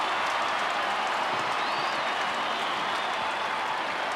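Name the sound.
stadium crowd cheering at an Australian football match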